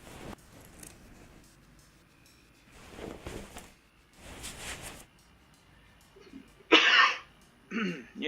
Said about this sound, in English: So please excuse the coughing there.